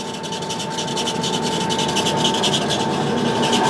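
An Oster revolving die head threader turns at a low 64 RPM with its oil pump working, producing a steady, loud, continuous mechanical hum and rushing grind with a fixed tone.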